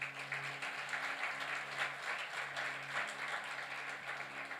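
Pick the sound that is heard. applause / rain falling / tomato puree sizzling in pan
applause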